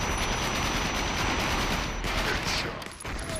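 Rapid gunshots and sustained automatic fire ring out loudly in a VR shooter game, a dense continuous volley that thins out briefly near the end.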